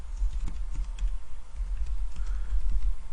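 Computer keyboard being typed on, a close run of quick uneven key taps and clicks continuing throughout with no talk.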